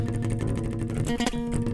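Bass guitar played to imitate falling bombs, a dense, distorted low rumble with sustained notes and a sudden swelling burst near the end.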